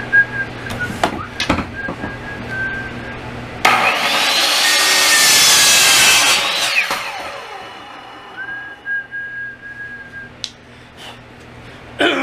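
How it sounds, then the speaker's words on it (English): PVC pipe being cut with a saw during bathroom plumbing work, a few scattered knocks and handling noises, then one loud sustained stretch of rasping sawing strokes for several seconds, followed by quieter clatter and faint tones. "That's the way to cut PVC right there."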